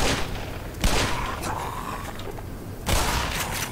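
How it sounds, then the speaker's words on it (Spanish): Magnum and shotgun fire in the video game Black Mesa: two sharp, loud blasts about two seconds apart, each trailing off over a dim rumble of in-game ambience. "un disparo de Magnum y un escopetazo y sigues vivo, no puede ser"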